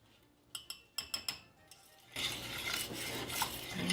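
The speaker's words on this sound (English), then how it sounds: "we just want to start working our cream cheese into our butter" Cream cheese is worked into butter in a bowl by hand. First comes a quick run of light clinks from a utensil tapping the bowl, then a steady, soft scraping and stirring that keeps going. Nobody speaks.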